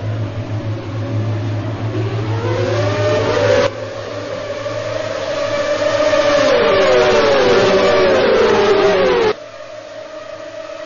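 Racing karts of a kart series accelerate together at a race start on the Long Beach street circuit, a loud sustained whine of engines with rising and falling pitch sweeps as they pull away, cutting off abruptly near the end.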